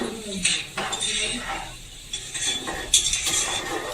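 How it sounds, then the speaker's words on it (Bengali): A spoon stirs aloo bhindi chorchori, a Bengali potato and okra dish with coriander leaves, in a pan, giving a series of scraping clinks and light knocks at irregular intervals, close and moderately loud. "আবার একটু নেড়ে নিলাম।"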